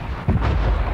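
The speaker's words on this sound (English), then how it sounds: "Artillery inbound." An artillery strike lands in Call of Duty: Black Ops Cold War as one dense, rumbling boom that swells after a brief moment and sustains loudly through the second, with no talk.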